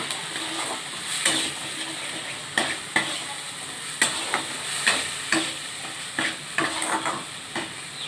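Poppy seed and dried red chili paste stirring and frying in rice bran oil, a steady close sizzle broken by repeated scraping strokes of a spatula against the pan, no voices.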